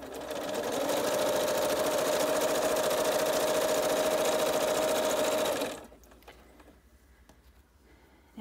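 A sewing machine runs continuously while chain piecing a quilt block, a loud, close, steady whirr for several seconds that stops abruptly, leaving faint handling noises.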